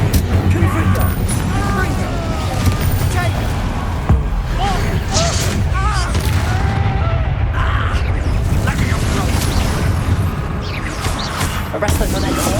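Spell blasts and explosions from Hogwarts Legacy gameplay on PS5 boom and crash repeatedly in a busy combat mix, with a voice calling out spell names over them throughout.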